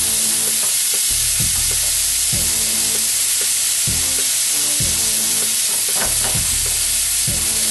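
Small pieces of chopped flank steak sizzle over medium heat in a pan, a loud continuous hiss broken by rhythmic scraping thumps as the meat is stirred.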